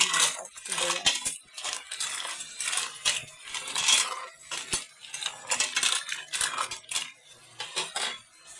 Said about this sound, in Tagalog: At hahaluin natin siya para kumapit yung lasa ng ating bawang at sibuyas.